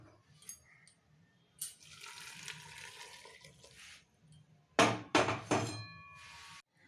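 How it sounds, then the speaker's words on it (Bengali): Water poured into a pressure cooker holding chicken and vegetables, a sustained splashing pour with a couple of metallic clinks from the pot, then a second louder, shorter pour, close by with no talking. "এই জলটা আমি সবটা দিয়ে দিচ্ছি এর মধ্যে।"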